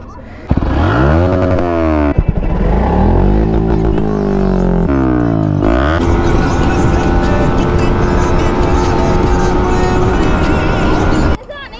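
A Yamaha R15 M motorcycle exhaust revs up sharply several times in quick succession, loud and close, then settles into a steady high idle drone before cutting off.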